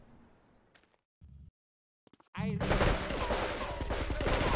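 Dense, continuous gunfire bursts out of near-silence in a GTA 3 shootout, loud and rapid like a sustained fusillade, after a few brief isolated clicks and thuds.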